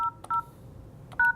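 Telephone keypad tones while logging into voicemail: three short dual-pitched beeps, two in quick succession then a pause before the third, clear and close with no talking.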